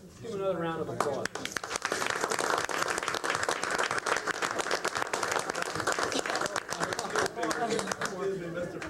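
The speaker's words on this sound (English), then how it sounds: "Give him another round of applause." Audience applause at a school board meeting starts after a brief spoken moment, then rises into brisk, crisp clapping from a modest room of people, steady and fairly close before tapering as a voice returns.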